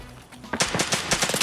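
Rapid bursts of assault rifle fire in a video game, a loud automatic volley of closely spaced shots following a moment of quieter background.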